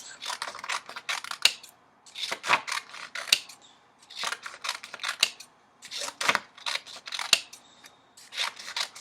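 Scissors snip through colorful paper to cut it into strips, with close, crisp clusters of rapid cuts in regular bursts separated by brief pauses.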